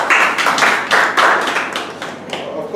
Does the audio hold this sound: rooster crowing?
no